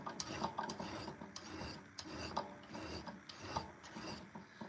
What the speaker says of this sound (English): this is 220 grit diamond stone or diamond plate from a work sharpener